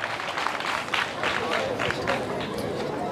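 An audience applauds at a school gathering, a burst of steady clapping from a crowd with rhythmic hand claps mixed with faint chatter and voices.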